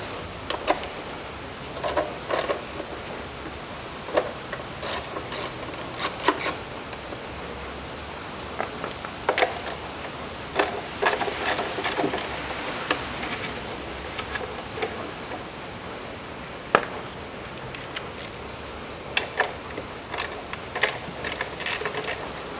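Three cover bolts being unscrewed with a 10 mm socket on the engine of a 2013 Mitsubishi ASX 1.8, heard as scattered sharp ratcheting clicks and metallic taps over a faint background hiss, close by with no talk.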